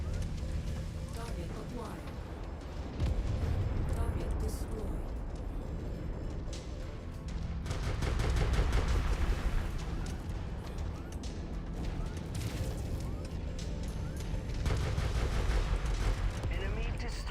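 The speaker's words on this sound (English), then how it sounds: "What keeps tagging me with machine gun fire?" Machine gun fire in the MechWarrior-style mech combat game Merctech, a dense, steady rattle of automatic shots and impacts running throughout, loud and continuous amid engine rumble.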